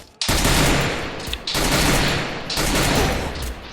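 Loud, dense gunfire bursts in a video game firefight where a sniper rifle is in play, three sustained volleys separated by brief breaks, close and overwhelming with no talk over them.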